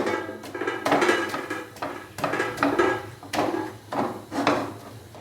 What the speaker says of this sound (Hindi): चिकन को मैश करने के लिए एक कढ़ाई के अंदर डालेंगे और ये देखें इस तरीके से घोटने की मदद से इसको अच्छे से मैश कर लेंगे